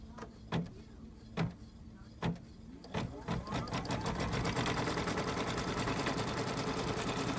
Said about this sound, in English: right there it's just stitching a placement line so I can put the next piece on